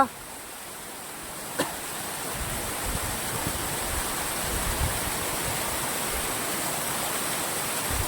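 A waterfall roars steadily in an unbroken rushing wash, nearby and uniform throughout, with one small click near the start.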